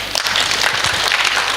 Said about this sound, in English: the rest of us, please clap for them.